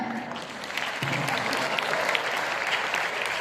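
A crowd at a school investiture ceremony breaks into steady, sustained applause welcoming a speaker, swelling slightly and continuing, dense clapping with no talk over it.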